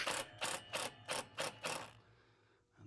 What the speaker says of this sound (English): we can finish these screws up.